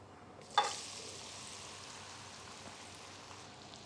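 Okra tossed into hot oil over a high flame hits with a sharp burst, then settles into a steady, close crackling sizzle that carries on alone.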